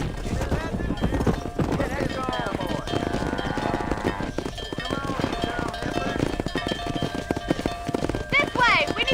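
Horse hooves clip-clop in steady rhythm while riding in the video game Red Dead Redemption, running continuously under game dialogue and music, with occasional whinnies.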